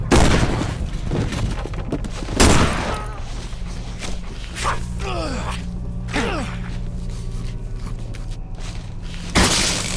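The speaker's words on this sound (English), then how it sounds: "see how they fare against the old shotgun" Shotgun blasts in the first-person horror game Condemned: Criminal Origins: two loud, sharp booms about seven seconds apart, with lower thuds, creaks and a steady background drone between them.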